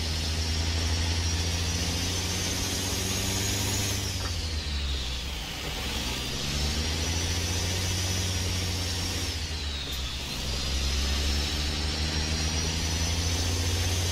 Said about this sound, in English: I'm gonna let the keep the windows down for a little bit so you can hear the engine